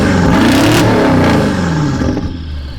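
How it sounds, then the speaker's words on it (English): A 700-horsepower twin-turbo V8 BMW build revs loudly with its exhaust valves open, a roaring rise in pitch then falling away as the revs drop, close and alone. "It's like too loud, but I love the turbo noises."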